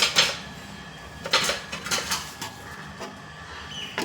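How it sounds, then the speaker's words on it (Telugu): A metal pot lid clinks and scrapes as it settles onto a pot of jaggery payasam, several sharp close rattles and knocks in short bursts with quiet gaps between them. "ఇట్లా మూత పెట్టి స్టవ్ ఆఫ్ చేసేయడమే"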